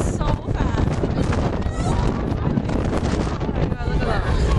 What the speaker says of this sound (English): And it's really, really windy.